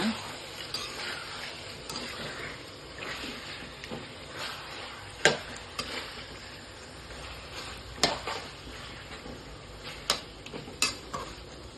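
A spoon stirs chicken dry roast in a pan, with a faint steady sizzle underneath and occasional sharp clinks of utensil against metal, soft and close.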